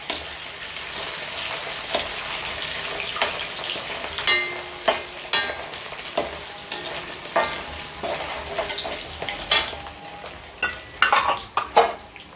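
Chicken frying with garlic and ginger for honey chilli chicken, loud close sizzling with repeated sharp scrapes and clanks of a spatula stirring against the pan in an irregular rhythm, no voices.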